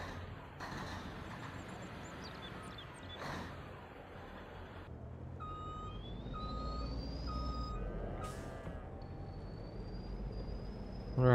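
A truck's reversing beeper in Farming Simulator 22 sounds in a steady repeating series of short tones at moderate distance, over a continuous low engine rumble and scattered game sounds, with no talking.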